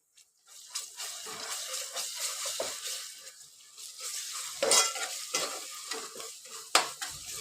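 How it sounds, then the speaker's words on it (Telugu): Ginger paste and turmeric frying in oil for mutton menthikura curry, a close sizzle with irregular stirring scrapes and a few sharper spoon knocks. "ఇది కొంచెం ఇట్లా ఆయిల్లో అయితే ఫ్రై చేసుకోవాలి"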